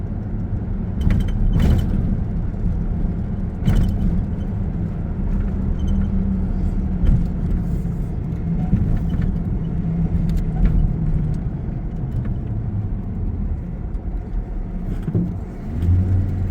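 A pickup truck drives out to a farm in Alaska on a summer morning, its engine a steady close rumble with road noise and a few brief knocks, no voices.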